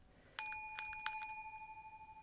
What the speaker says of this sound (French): vous pourrez entendre ce bruit de cloche.